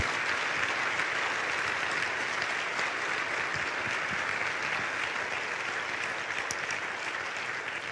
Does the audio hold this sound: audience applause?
yes